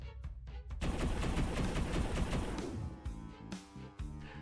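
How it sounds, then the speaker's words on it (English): Henchmen firing their weapons in a dense, sustained barrage of rapid gunfire, loud and close, with a few sharp single shots and crashes before and after the main burst. "the henchmen fire their weapons with renewed fervor"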